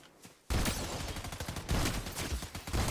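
Shotgun fire in a video game breaks out suddenly after a quiet moment, a rapid run of close, loud blasts that keeps going to the end.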